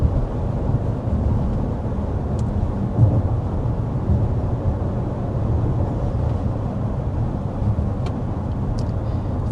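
Steady low-frequency road and engine rumble inside a 2025 Audi Q7 at 55 mph, a continuous broadband roar with no talking and only faint occasional clicks.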